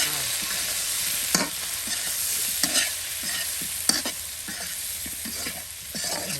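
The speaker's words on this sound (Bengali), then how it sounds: "তেলের সাথে সকল প্রকারের মশলা মাংস একসাথে ভেজে নেওয়া হচ্ছে" Chicken and mixed spices fry together in oil for a spicy chicken curry, a continuous hiss punctuated by regular scraping strokes of a spoon about every second, close and clear with no talking.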